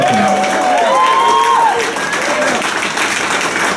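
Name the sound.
audience applause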